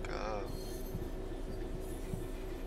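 A freight train passing at a distance on a snowy Bletchley to Willesden Junction line in Train Sim World 5, a steady rumbling roll with faint rail noise and a brief high screech at the start.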